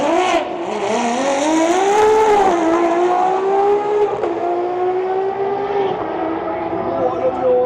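A Ferrari 599XX race car engine howls loudly up through sustained acceleration in the California mountains, a strong rising harmonic whine held for several seconds, with faint voices underneath.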